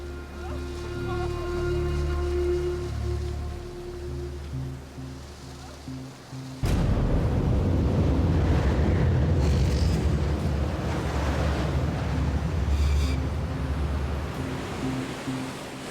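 Stormy ocean waves crash around a sailboat at sea, a loud, roaring surge of water that swells abruptly and churns on continuously, following a quieter stretch of low tonal hum.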